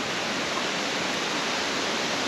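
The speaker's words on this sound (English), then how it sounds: "river is flowing this way into the swimming area" A river in the Smoky Mountains rushes steadily past a Greenbrier campground swimming area, a dense, even wash of flowing water with no breaks.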